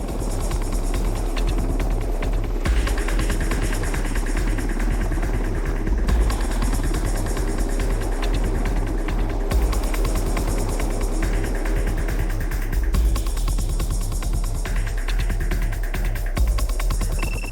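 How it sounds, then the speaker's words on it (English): A UH-60 Black Hawk helicopter's rotor throbs steadily with a loud engine whine, continuous and close, with no voices. "The UH-60 Blackhawk is the basic troop carrier."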